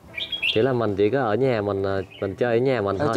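Pet birds chirping indoors at a Gia Lai bird breeder's home, with brief bright tweets near the start that are mostly buried under steady close conversation between men.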